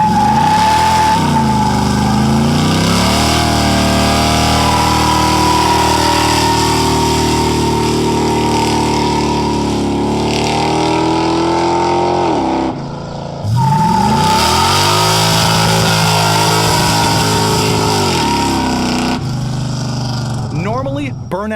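A 1970 Plymouth Duster does burnouts, its engine roaring loud and continuous with rising and falling revs and squealing tires, a brief lull midway before the roar returns.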